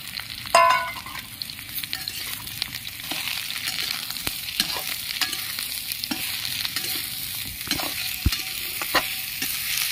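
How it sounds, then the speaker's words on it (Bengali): Chopped onion and ridge gourd fry in a pan for a lentil dish, giving a steady close sizzle with spatula stirs and occasional light clinks against the pan. "পেঁয়াজটা একটু লাল করে ভেজে নেব।"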